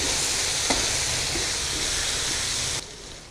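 Aloo keema with black pepper fries in a pan, giving a loud, steady, close sizzle with a brief clink early on, before the hiss drops sharply just before the end.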